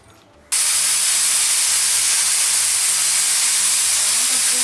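Pressure cooker venting steam while beef curry with potatoes and milk cooks inside: after a short quiet moment a loud, steady hiss bursts out and holds without a break.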